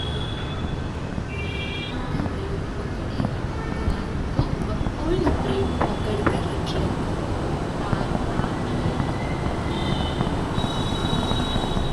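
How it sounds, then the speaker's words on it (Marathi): Busy metro station ambience at Kashigaon, Mumbai, with a steady low rumble of trains and crowd noise, faint chimes and announcement tones, voices murmuring throughout. "आता आपण काशीगाव मेट्रो स्टेशनला आहोत."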